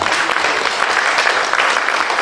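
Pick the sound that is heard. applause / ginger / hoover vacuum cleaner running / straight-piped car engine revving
applause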